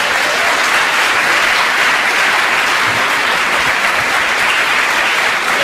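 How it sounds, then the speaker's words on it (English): Loud, sustained applause from a conference crowd, dense clapping that holds steady throughout. "Let's give these guys a round of applause."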